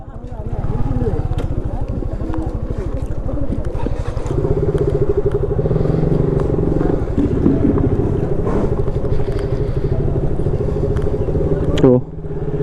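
A motorcycle rides in close by to park at an old-age home in Khaniya Gaon, Dibrugarh. The engine drones loudly and steadily with a rapid throb, wind buffets the microphone, and the engine stops abruptly near the end.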